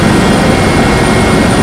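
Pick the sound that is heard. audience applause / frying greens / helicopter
helicopter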